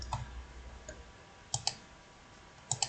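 Sharp, quiet computer mouse clicks while signing in to a YouTube account, a few isolated single and double clicks spread across a near-silent room background.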